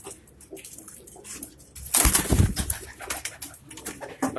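Rooftop pigeons in Karachi coo and rustle nearby, with a sudden loud burst of wing flapping in the middle and soft cooing continuing after.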